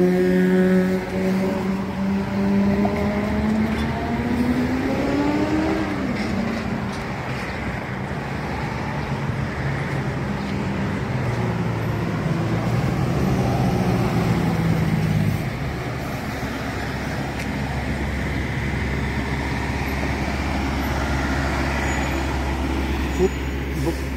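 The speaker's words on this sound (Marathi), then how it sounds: "जरा जास्त प्रमाणात ट्रॅफिक असते. इनफॅक्ट हा हायवेच आहे" Highway traffic rolling through downtown Plainfield past old houses, a steady broad roar of passing vehicles with engine hum, continuous and fairly close, under someone talking throughout.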